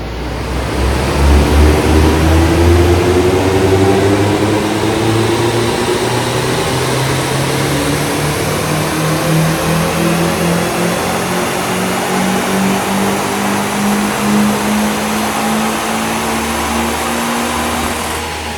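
A turbocharged Mazda MX5 engine pulls through a long dyno run, its loud, steady drone rising gradually in pitch from low revs to high over nearly twenty seconds, close and continuous.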